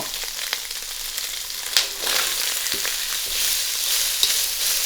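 Onions sizzle in oil alongside diced Spam for fried rice, a steady close hiss broken by a few sharp scrapes and clacks of a spatula stirring the pan.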